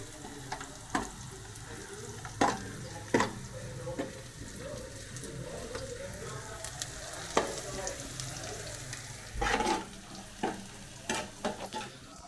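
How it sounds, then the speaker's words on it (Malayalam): Onions sautéing in a pan while a pork roast is being prepared, a soft continuous sizzle punctuated by sharp stirring scrapes and clatters, with a short louder burst near the end and no talking. "ഉള്ളി വരടുകയാണ്"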